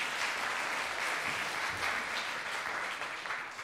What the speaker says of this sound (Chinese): 给他掌声一下